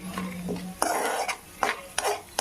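Mustard seeds and chana dal tempering in a pan for mint chutney, heard as a handful of sharp clanks and scrapes of a spoon against the metal pan between quieter stretches of soft sizzle, close and fairly faint.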